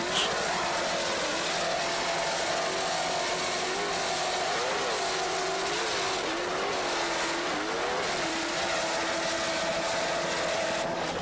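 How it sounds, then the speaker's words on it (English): Offshore racing powerboat in a 1993 US offshore race, its racing engines droning loud and steady with slight pitch swells as the throttle shifts, heard continuously without talk. "Just listen to those Zool racing engines."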